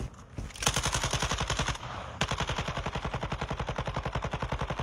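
Sustained automatic gunfire in Warzone 2, rapid evenly spaced shots in long bursts with a brief dip, loud and close, with no talk over it.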